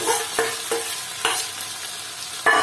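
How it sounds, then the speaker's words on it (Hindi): Fried tinda pieces tipped into soft tomato masala in a pan, giving a steady close sizzle with several sharp scraping stirs of a spoon against the pan. "अब इसमें जो हमने टिंडे फ्राई किए थे वे डाल देंगे।"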